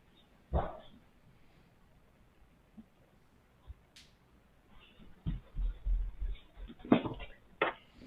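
A dog barks a few times indoors, a sharp yelp early, then a cluster of louder barks and whines near the end, over quiet room noise.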